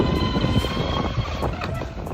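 Proboat Sonicwake RC boat motor running at speed on choppy water, a steady high electric whine with wind buffeting, continuous and fairly loud as the throttle eases.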